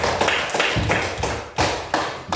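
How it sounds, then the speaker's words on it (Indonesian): Audience applause for a presenting group in a classroom, a burst of clapping with uneven repeated surges, fairly close and moderately loud, no talk over it. "kita tepuk tangan lagi untuk kelompok ini"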